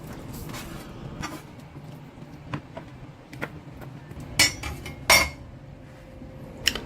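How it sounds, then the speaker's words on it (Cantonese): Knife chopping beef brisket into pieces on a board in a home kitchen, a few sharp isolated taps and clicks over a steady low background hum, with two louder knocks near the middle. "用刀將啲牛腩切適合嘅大細"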